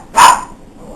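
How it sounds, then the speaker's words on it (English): A single sharp bark from a dog indoors, loud and close, quickly fading into a quiet room. "pardon my dog"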